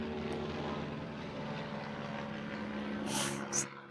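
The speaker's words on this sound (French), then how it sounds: "on va faire une pause d'hélicoptère." Aircraft, most likely a helicopter, passing overhead near a large stadium, heard as a steady broad engine and rotor drone that stays constant throughout with no talk.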